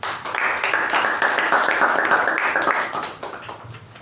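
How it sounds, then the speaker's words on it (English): An audience at a Toastmasters meeting gives a round of applause, a dense burst of clapping from many hands, steady for about three seconds before tapering off. "Let's have a huge round of applause"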